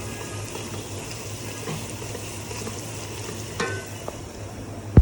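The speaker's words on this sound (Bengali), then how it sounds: "এটাকে ভালোভাবে কষিয়ে নেব" Chicken korma browning in a pan with coriander powder and other spices, a steady low sizzle and frying hiss with a few faint stirring clinks and a sharp tap at the very end.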